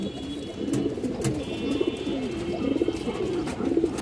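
Large big-headed pigeons coo in low, repeated rolling calls, close and continuous, with a faint higher chirp in the background and no talking.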